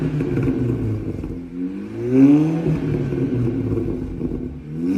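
A 2020 Lamborghini Huracán engine revs up, its pitch climbing and falling in a strong sweep midway, with a rumbling, whirring tone that stays loud and close throughout.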